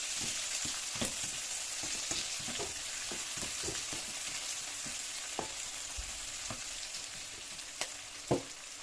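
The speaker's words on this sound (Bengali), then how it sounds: "এবার একটু এটাকে ভাজতে দেবো একটু ভাজা হবে" Steady crackling sizzle of salted onions frying in a pan with curry leaves, with occasional sharper pops and a few scraping stirs, fairly close and moderately loud.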